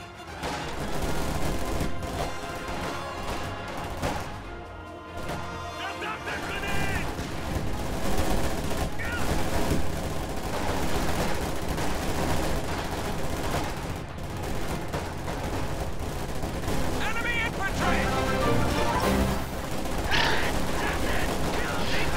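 Gunfire in a real-time strategy battle, dense overlapping rifle and machine-gun bursts crackling continuously amid mechanical clatter, loud and busy throughout with occasional voice lines mixed in.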